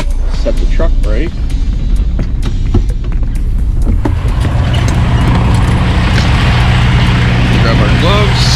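A truck engine idles and then rises into a deeper, louder rumble as it backs up, with scattered clicks and someone talking over it early on.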